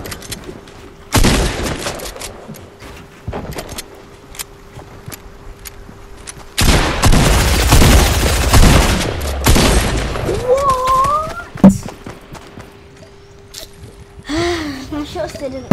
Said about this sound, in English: Wow, people are shooting and I'm coming.